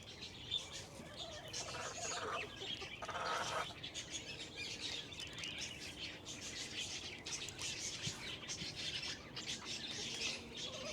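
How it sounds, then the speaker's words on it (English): Egg-laying hens kept on a Florida homestead garden cluck and squawk in a steady, moderately close chatter, with a louder outburst midway and no voices. "having a few hens to get some eggs will definitely top off your homestead"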